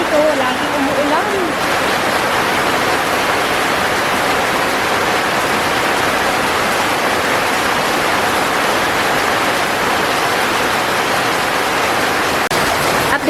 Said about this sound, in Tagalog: As usual, guys, umuulan. Yan. Ulan dito. Laging umuulan.